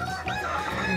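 Guinea fowl chicks chirp and peep in a quick cluster over a busy background, close by and fairly loud.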